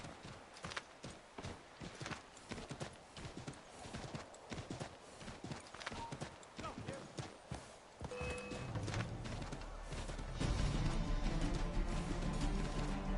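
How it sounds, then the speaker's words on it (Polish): Horse hooves clip-clop in rapid galloping rhythm in Assassin's Creed III, close and steady for several seconds before a denser rumble of game sound and music swells over the final stretch. "Ja sobie wezwę konia."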